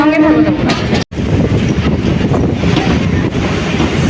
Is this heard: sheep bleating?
no